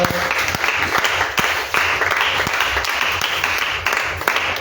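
Church congregation clapping and cheering in praise to God, a loud, dense, continuous wave of applause with sharp individual claps throughout, no speech over it.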